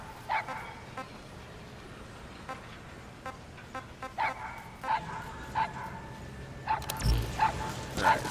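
A puppy in a video game yips and barks in short, scattered bursts over a steady game background hum, with a few brighter tones and a sudden louder swell near the end.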